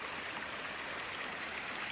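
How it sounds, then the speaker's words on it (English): A fast-moving stream with a sandy bottom rushes in a steady, even wash of broadband noise, faint and continuous, with nothing else heard over it. "and nice and fast moving. Yeah, very nice water source this."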